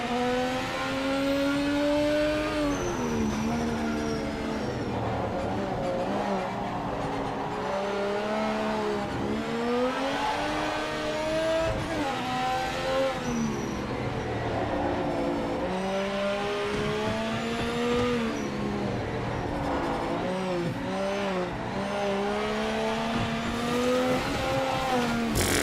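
Race car engine in the Project Motor Racing video game, loud and continuous, revving up and down through gear changes with occasional tire squeal as the car laps the circuit.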